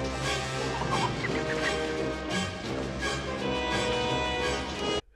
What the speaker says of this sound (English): there's a chicken that comes into scene at the same time